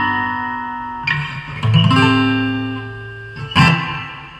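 Reggae chord progression strummed on an acoustic guitar with extra notes added to the chords, two bright strums ringing out and sustaining up close with no talking.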